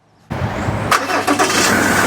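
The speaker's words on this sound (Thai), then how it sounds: "แล้วเดี๋ยวผมจะ ติดเครื่องแล้วเปิดไฟให้ดูเนาะ" A Ford Ranger built up as an F-150 super truck cranks after a moment of silence, catches and settles into a loud, steady running engine noise close to the microphone.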